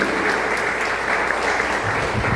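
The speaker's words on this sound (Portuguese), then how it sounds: "Dá uma salva de palmas ao Senhor, porque Ele é digno." Sustained applause from a congregation during a church worship service, dense and steady crowd clapping throughout with a faint voice underneath.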